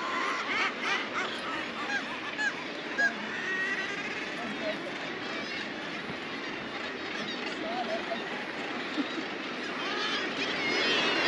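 Seabird colony of gannets, black-legged kittiwakes and common murres in Newfoundland, a dense clamor of overlapping honking and squawking calls, continuous and fairly close, with a voice speaking over it.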